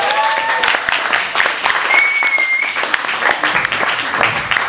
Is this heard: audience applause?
yes